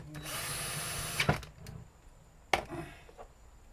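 A bolt holding the retaining bracket is tightened onto an automatic 5-speed transmission valve body: a faint whirring run of a power tool, then two sharp clacks with quiet handling in between.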